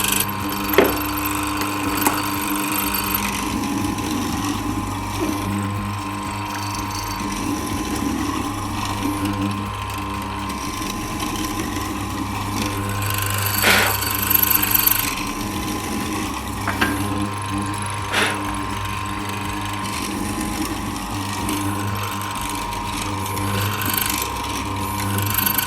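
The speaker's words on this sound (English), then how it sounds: "we can bring this down and actually cut our mortise in a succession of passes" A SIP 01944 bench morticer with a sliding table cuts a mortise in wood in a succession of passes, giving a steady motor drone with periodic louder chopping bursts, close and continuous.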